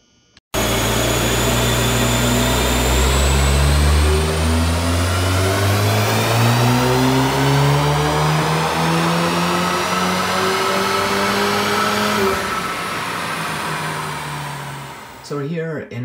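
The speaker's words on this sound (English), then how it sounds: "let's see what a dyno pull looks like in fourth gear." A VW Golf R MK7 engine on a dyno in fourth gear climbs in a long, loud, rising rev with a steady pitch sweep upward, then cuts off and winds down near the end.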